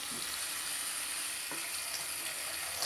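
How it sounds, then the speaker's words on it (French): A thin stream of tap water runs steadily while a brush-cleaning glove is rinsed, a soft continuous hiss close by with faint splashes and no talking. "je laisse couler un léger filet d'eau. Et je les rince au fur et à mesure."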